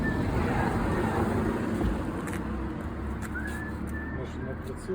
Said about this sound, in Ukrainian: Хтось свистить.